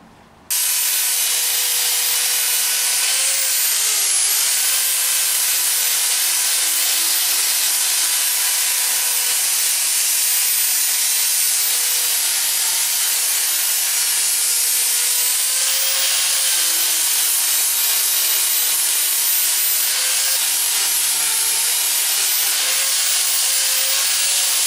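Steady, continuous abrasive sanding on a wooden sword prop, a close, loud hissing rasp that runs on with little change.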